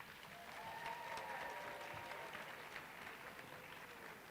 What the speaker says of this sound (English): provide a round of applause for those that have covered your back